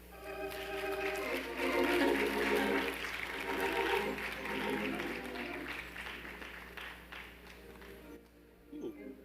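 Audience applause for a speaker at a heritage assembly, with moderate clapping rising in the first seconds and tapering off toward the end, then a brief quiet gap.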